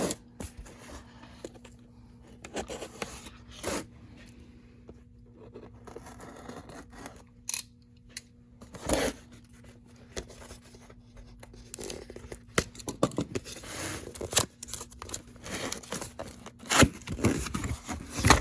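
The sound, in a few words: box cutter opening a keyboard's cardboard box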